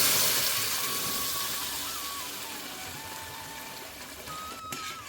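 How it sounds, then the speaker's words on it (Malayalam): Carrot juice is poured into hot ghee for a sweet payasam, making a steady, soft sizzle and hiss that fades gradually over a few seconds, with no voice over it. "ഈ നെയ്യിലേക്ക് നമ്മൾ അരച്ചെടുത്ത് വെച്ചിട്ടുള്ള ക്യാരറ്റ് ജ്യൂസ് ഇങ്ങോട്ടേക്ക് കൊടുക്കാം"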